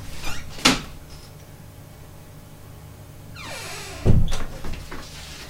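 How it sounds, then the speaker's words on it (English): An indoor door is pushed shut with a solid thud near the microphone. Before it comes an earlier sharp knock or latch click, and after the thud a short rattle and settling as the latch catches. No one speaks. "Sorry, I just need to shut a door."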